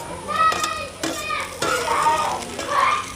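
Cut potatoes drop into a pan of golden-brown tadka, setting off a steady sizzle with stirring and scraping, while voices chatter faintly in the background.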